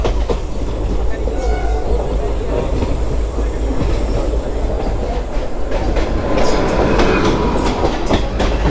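Local train passing a halt station, loud close rumble with rhythmic clickety-clack of wheels and some squealing, growing heavier toward the end.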